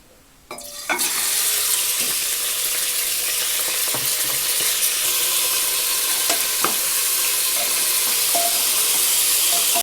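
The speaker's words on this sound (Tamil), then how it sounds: "இப்போ க்ளீன் பண்ணி வச்சுருக்க மட்டனை இதில் சேர்த்து வதக்கிக்கலாம்." Cleaned mutton pieces dropped into hot oil in a cooker hit with a sudden loud sizzle that settles into a steady, close frying hiss, with occasional clicks and scrapes from stirring and no talking.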